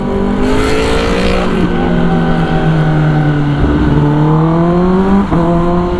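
A loud Kawasaki ZX-10R sport motorcycle exhaust revs steadily nearby, its pitch rising and dropping with each throttle blip, a continuous throaty drone with no voices.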